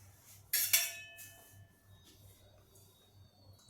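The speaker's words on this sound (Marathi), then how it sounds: "या चमच्याने मी दोन चमचे तूप यात घातलं आहे" A spoon adding ghee into a paratha mixture, one sharp metallic clink against a dish followed by a fainter tap, then quiet room tone.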